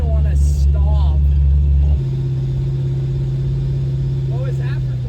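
A supercharged LT1 V8 in a 700-horsepower Acadian roars loud from inside the cabin, holding a heavy, steady drone that drops in pitch as it shifts, with voices talking over it.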